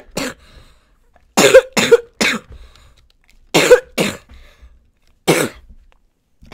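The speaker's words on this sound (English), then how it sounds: "sorry guys if I'm coughing in your ear" Six sharp coughs from a person gaming in Minecraft, close and loud, in uneven bursts with short quiet gaps, the first faint and two pairs coming in quick succession.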